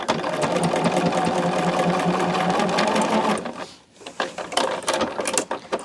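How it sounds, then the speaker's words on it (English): A Bernina sewing machine stitches along the raw edges of a fabric bag tab, running steadily and close for over three seconds, then pausing briefly before a few shorter bursts of stitching resume. "I am going to stitch along the raw edges to close that up"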